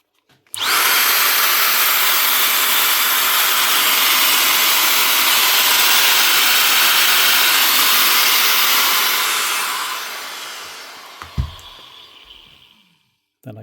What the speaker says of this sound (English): Just want to run this motor again, just to make sure she's not sparking on me.